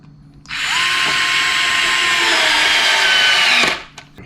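A WORX WX242 cordless screwdriver drives a 2.5 cm screw fully into a wooden board in one loud, continuous whirring run of about three seconds, close up, starting and stopping abruptly.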